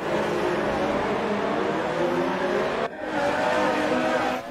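Formula 1 cars roar past one another during an overtake in the F1 2018 racing game, with a loud, continuous high-revving engine wail and a brief dip near the end.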